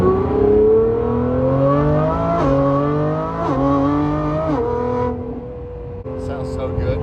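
A manual V12 Revuelto supercar revs hard and close, its engine tone climbing in steady pulls with brief drops between them, as voices talk over it.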